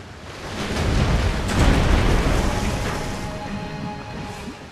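Artillery explosions from a Civilization Revolution battle: a loud rolling roar that swells to a peak in the middle and slowly fades, a continuous rumble of blasts without speech.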